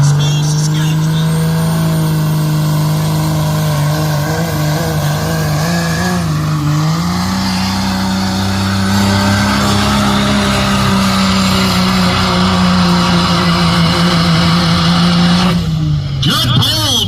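A Cummins-powered truck or tractor in a tractor pull roars under heavy load, a loud sustained engine note that climbs in pitch midway and holds before easing off, with voices over it.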